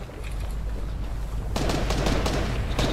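Rapid gunfire in the video game Fortnite, with bursts of close, loud automatic shots that intensify halfway through over a busy game background.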